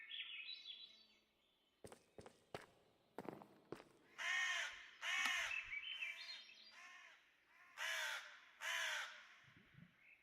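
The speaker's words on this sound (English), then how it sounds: "Bird noise." A bird cawing in the Minecraft game, a series of loud crow-like caws in uneven bursts after a few sharp clicks, rising over a quiet background with faint steps.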